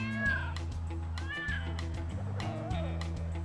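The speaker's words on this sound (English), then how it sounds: "Or as I like to call it, Camryn's cat camera to follow a cat around the house device." A house cat meows several times in rising, drawn-out calls over a steady, loud low musical backing, with faint voices mixed in.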